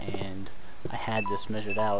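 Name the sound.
phone tones going off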